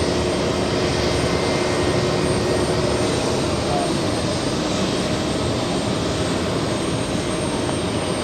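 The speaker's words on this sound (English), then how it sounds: "look at that 777-300ER flying in from Tokyo's Haneda Airport" A Japan Airlines Boeing 777-300ER landing at JFK from Tokyo Haneda sends a loud, continuous jet engine roar with a broad steady rush that holds level throughout.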